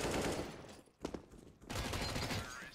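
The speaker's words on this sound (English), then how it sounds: "The ability to just rattle off shot after shot so fast." Rapid MAC-10 submachine gun fire in a Counter-Strike match, dense rattling bursts that stop briefly, give way to a few sharp shots, then resume as another sustained burst.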